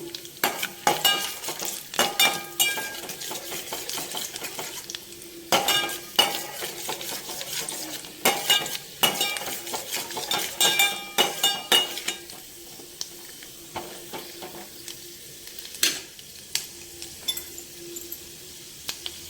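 Almonds frying for atukula payasam, a rice-flake sweet, give a steady low sizzle broken by frequent sharp stirring scrapes and clinks of a utensil against the pan, busier early on and sparser toward the end.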